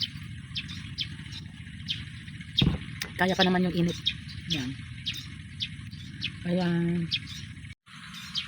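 Birds chirp outdoors in short, scattered calls while people talk close by, their voices often louder than the song.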